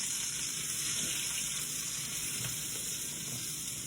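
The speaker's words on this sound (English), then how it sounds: "We'll start sauteing these up" Rinsed sugar snap peas sauté in a hot pan for a Chinese steak and vegetable stir fry, giving a steady, close, continuous sizzle and crackle with no voices.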